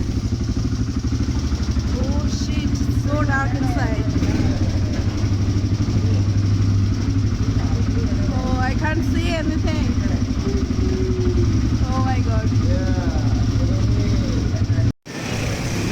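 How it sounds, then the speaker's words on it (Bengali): An ATV engine drones steadily and loud throughout a ride in Bali, a constant low rumble, with a person talking over it in bursts before a brief cut near the end. "এমনিতে তো এটিভি বাইক রাইড অনেকগুলা কোম্পানি অফার করে"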